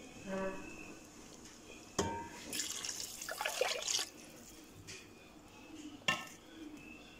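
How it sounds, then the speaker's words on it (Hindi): Water from a mug poured into a pot of simmering mutton yakhni in a home kitchen, a steady splashing pour with clinks of utensils and metal pot sounds around it. "मैं इसमें अब पानी और थोड़ा सा ऐड कर रही हूँ।"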